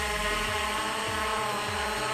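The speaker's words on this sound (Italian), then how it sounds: "facciamo l'autodecollo col tastino automatico oppure si può dare in su con l'acceleratore" A small MJX Bugs 12 EIS quadcopter drone lifting off on automatic take-off, its rotors giving a steady, close, high-pitched buzzing whine that holds even throughout.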